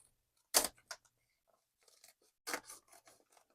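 Scissors snip through a fabric tote bag, quiet and close, with two sharp cutting bursts followed by lighter rustling and smaller snips in between.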